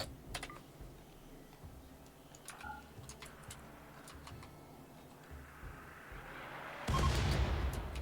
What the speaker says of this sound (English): Now, as long as one of these friggin' mortars hits that ship...